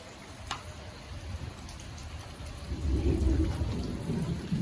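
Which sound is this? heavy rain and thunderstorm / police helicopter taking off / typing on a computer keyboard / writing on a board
heavy rain and thunderstorm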